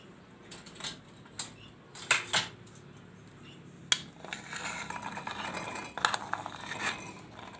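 Chickpeas are scooped into a mixer jar in a home kitchen, giving scattered light clinks, taps and rattles of a spoon and jar at close range, with no talk.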